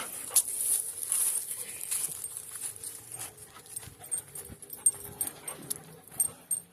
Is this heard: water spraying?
no